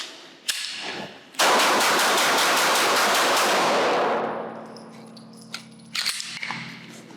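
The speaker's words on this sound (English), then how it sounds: "I think I'm just going to keep shooting it." Close shots from a Glock Gen 6 pistol at a shooting range: a sharp report, then a sustained loud burst lasting a few seconds that tapers away, followed by faint clicks and handling noises.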